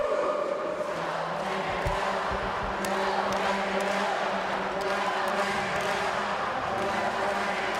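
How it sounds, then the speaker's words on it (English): Crowd cheering and chanting at the Canadian Olympic and Paralympic swimming trials finals in a Toronto natatorium: a steady, dense roar of many voices, continuous and reverberant throughout, with faint thumps underneath. "Announcer's got the crowd cheering"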